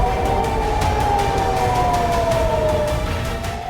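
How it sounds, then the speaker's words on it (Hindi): A siren wails continuously in Tel Aviv, a loud, steady rising-and-falling tone that slowly slides downward, with no voices. "लगातार सायरन बज रहे हैं"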